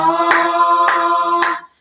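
Three slow, sharp, unison claps from a church congregation during Sunday worship, evenly spaced and ringing over a sustained musical tone that fades out at the end.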